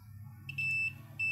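A continuity tester probing ECU coil wiring, on a motorcycle with no spark at the coil, gives two steady high electronic beeps, the first about a third of a second and the second starting near the end, over a low background hum.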